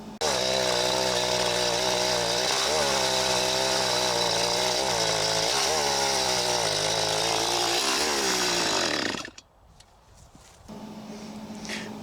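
A Stihl 025 chainsaw that won't run properly, its carburettor needing a clean, roars loudly and steadily for about nine seconds, then sputters and dies. A faint low hum follows after a short silence.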